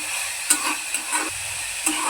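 Upma stirred in a pan, a continuous gentle sizzle with a few distinct scraping strokes of the spoon, close and moderately loud, no talking.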